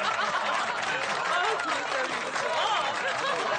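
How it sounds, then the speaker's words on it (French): Applause from an audience in a cartoon, a dense steady clatter of clapping mixed with scattered laughter and chuckles. "On peut l'applaudir."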